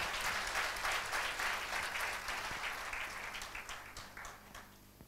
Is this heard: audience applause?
yes